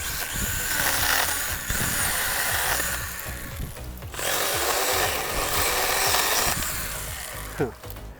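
A STIHL GTA26 battery mini chainsaw cuts through a green shrub outdoors, its motor whirring in steady bursts with a short pause near the middle and a sharp snap near the end.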